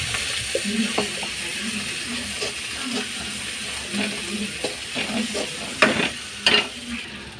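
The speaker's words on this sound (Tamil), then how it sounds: "வெங்காயம் நல்லா வதங்கட்டும்" Onions and curry leaves sautéing in a pan for a crab dish, a steady soft sizzle under repeated stirring scrapes, with a couple of louder clanks near the end.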